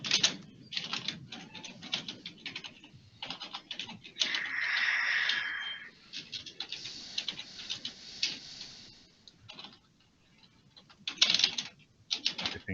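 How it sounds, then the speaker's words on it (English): Clicky keystrokes on a computer keyboard come in irregular bursts and pauses, fairly close but quiet, with a brief whistle-like tone partway through. "Typing."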